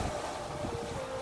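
Strong wind sweeps across a white sand beach, a steady low rushing that stays fairly faint and continuous with no voices over it.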